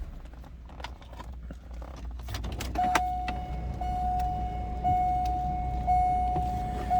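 A 1998 Chevrolet Corvette cold-starting, an engine that cranks briefly and then catches into a steady, loud idle with a constant whine, heard close with no talking.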